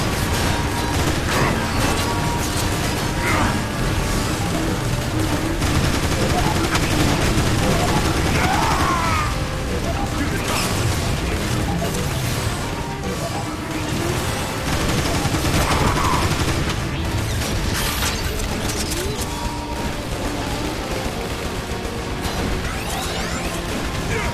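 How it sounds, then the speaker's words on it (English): Sustained gunfire and explosive crashes from the game Transformers: War for Cybertron, a dense, loud barrage of shots and impacts running the whole time with occasional whooshes, and some voices mixed into the battle. "I'm getting shot to pieces here!"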